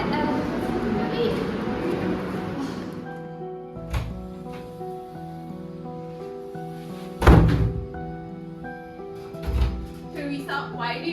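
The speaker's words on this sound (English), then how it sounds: "why did you bang the door?" A classroom door bangs shut, several heavy thuds and slams spaced across the clip, the loudest near the middle, over a background of faint voices.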